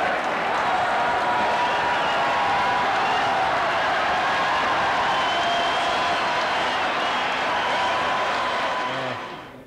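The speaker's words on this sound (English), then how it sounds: "A huge cheer." A large stadium crowd at an FAI Cup final roars and applauds in a dense, sustained wash of cheering and clapping that holds steady at full volume for nearly ten seconds before trailing off at the very end.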